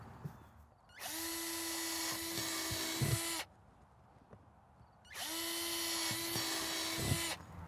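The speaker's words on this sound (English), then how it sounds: "you want to start drilling holes in the base of the container" A power drill boring holes in the base of a plastic garbage can used as a potato container, two steady high whining bursts of about two seconds each, separated by a short pause, close and loud.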